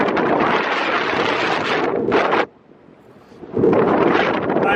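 Loud wind buffets the microphone while paragliding high over Medellín, Colombia, a roaring rush that drops away briefly in the middle before surging back, with no talk.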